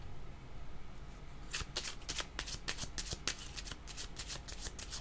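Tarot cards being shuffled, a rapid riffling flutter in several quick bursts after a quiet start, close and fairly soft, no talking.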